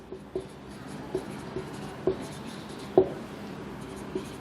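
Pen scratching steadily across paper while trigonometry equations are written out by hand, close and quiet, with soft taps and strokes under a faint room hiss.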